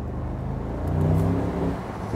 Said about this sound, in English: the engine noise is absolutely fantastic